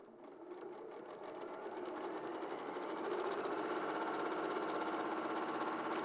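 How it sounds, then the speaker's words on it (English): Sewing machine running steadily while sewing a back stitch over the edge of the fabric, a continuous close whirring hum that grows slightly louder partway through, with no talk. "So as I do a little back stitch, I just go over the edge of it."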